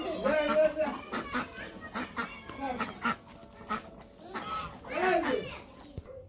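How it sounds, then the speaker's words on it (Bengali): Ducks arriving at a village home give a string of loud, near honking quacks in bursts, mixed with other fowl calls and background voices. "হাঁস আইসা পড়ছে বাড়িতে"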